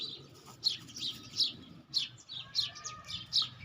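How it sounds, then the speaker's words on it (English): Small birds chirping in a tree after rain, a series of bright repeated tweets at fairly even intervals over a soft low background rumble, moderately near, no talk. "So they are chirping at this moment because they are happy after yesterday's rain."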